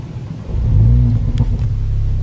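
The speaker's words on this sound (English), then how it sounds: "And we press this and the engine comes to life with an awesome" A Mercedes-Benz A45 AMG starts up nearby, its engine catching with a loud low rumble that swells and settles into a throaty idle, with a few sharp crackles.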